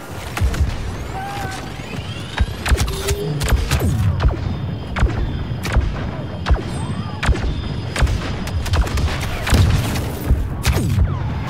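Grenade blasts and heavy booms from Star Wars Battlefront 2 multiplayer on the snowy Hoth map, repeated loud thuds and explosions in a dense barrage over continuous battle noise and gunfire.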